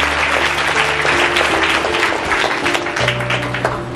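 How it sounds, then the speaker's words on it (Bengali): A church congregation claps loudly and steadily, a dense wash of applause filling the room for several seconds without a break. "প্রভু যেন একটু জোরে করতালি দেয়"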